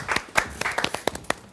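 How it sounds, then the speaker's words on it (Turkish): Scattered audience clapping greets a pianist arriving on a Turkish studio show, a dozen or so irregular claps from several people, fairly soft and without talk. "Alkış, alkış."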